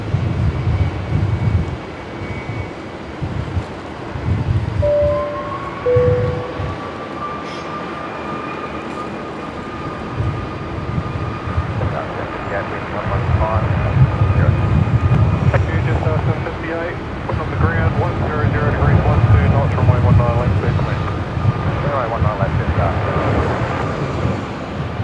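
A Boeing 737 Max 8 airliner departs Brisbane airport from runway 01, its jet roar building from a distant rumble into a louder, sustained swell beneath faint voices and airport ambience.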